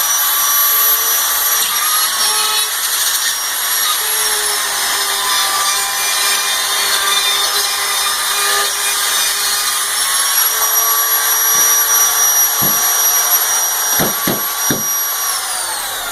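A handheld router cuts a counterclockwise path around a board held in position on drywall, giving a steady loud high whine with dense broadband grinding throughout and a few sharp clicks near the end.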